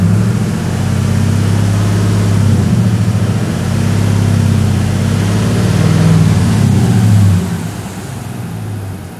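A 2010-2019 Dodge Ram 5.7L V8 revving steadily after a water pump replacement, a loud, sustained low engine drone that holds for about seven seconds before easing off near the end.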